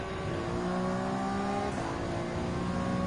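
DTM race car engines in Gran Turismo 7 hold a steady, loud whining drone with layered tones as cars jostle for position, with no talk.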